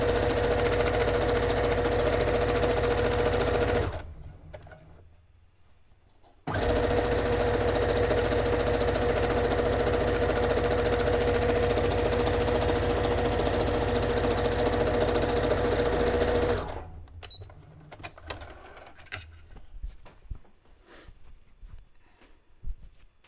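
Sewing machine stitching the bottom seam of a drawstring backpack made from Legend of Zelda fabric, a loud steady mechanical whir that runs, stops for a couple of seconds, resumes for a long stretch, then gives way to quieter handling noises.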